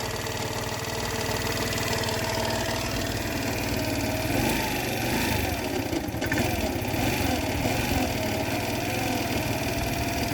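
A GY6 scooter engine on a Baotian Comfort idles unevenly with a steady, close, loud mechanical drone and an odd noise running underneath, continuous throughout with no speech.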